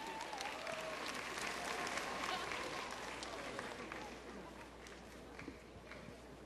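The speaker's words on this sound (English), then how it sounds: "Let's have a round of applause for Miss India." Audience applause fills a Miss Earth 2007 pageant hall, a steady, dense wash of clapping heard at moderate distance throughout, with faint voices and a brief tonal sound early on.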